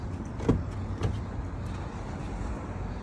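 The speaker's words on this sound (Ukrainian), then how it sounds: "Два склопідйомника передніх" Front electric power windows of a car run with a steady low motor hum and a couple of faint clicks, heard from inside the cabin at moderate volume without talk.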